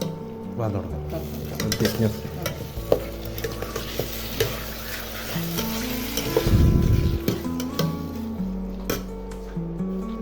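Chicken manchurian frying and being stirred in a pan with a cornflour mixture, a steady close sizzle with scraping stirs and a louder burst partway through, over a faint background tone.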